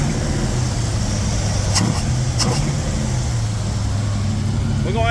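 A 1940 Chevy coupe engine idles steadily at low speed with a rough, constant rumble, recorded up close and loud, with a couple of short sharp clicks partway through.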